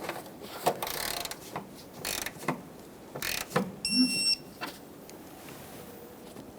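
Lower bolts on a 2011-2020 Toyota Sienna 3.5L V6 water pump are torqued to 40 foot-pounds, bringing faint ratcheting clicks and metallic handling noises, with a brief click-out near the middle, quiet and close in a workshop.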